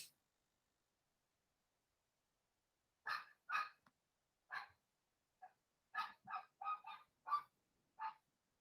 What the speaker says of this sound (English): That dog is losing his mind.